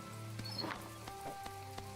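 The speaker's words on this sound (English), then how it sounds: "Arlo, what are you doing out in the rain?" Light rain patters in the My Time at Portia game world, a soft, even fall of drops with faint scattered taps over a low steady background hum.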